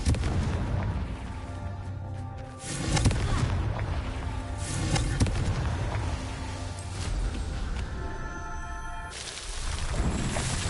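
In Hogwarts Legacy, Confringo blasting spells go off as loud, booming explosions, several heavy bursts in quick succession over dense game noise, with a voice speaking.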